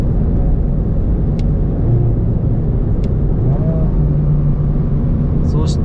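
Engine of a Honda Civic Type R in sport sound mode, rumbling steadily with a rising rev as it downshifts from sixth gear, close and loud inside the car while a person speaks over it.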